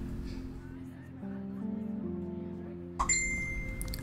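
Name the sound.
phone notification chime in Life is Strange video game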